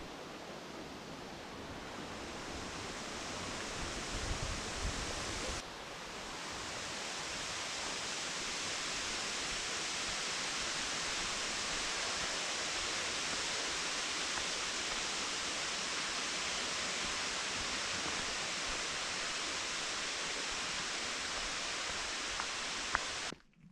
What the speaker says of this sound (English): After you've spent some time at this 50-foot waterfall